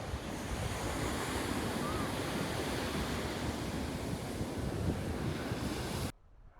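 Surf and steady wind roll along Copacabana Beach in Brazil on a four-kilometer stretch of golden sand, a continuous broadband wash with wind rumbling against the microphone until it drops off abruptly near the end.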